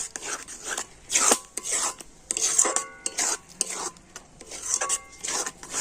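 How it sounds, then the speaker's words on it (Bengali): Rice sandesh mixture stirred in a pan with a spoon, a scraping rasp repeated in uneven strokes, close and fairly loud, with short pauses between passes and no talking. "আর এবার এইভাবে কন্টিনিউ নাড়তে হবে নাড়তে নাড়তে দেখবেন এটা কিন্তু শক্ত হয়ে যাবে"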